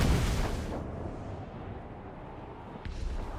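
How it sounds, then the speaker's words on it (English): A heavy ship's cannon boom opens in the video game Assassin's Creed 4 Black Flag, its rumble fading into a low roar, followed by a second, softer thud near the end. "Cannon! Fire!"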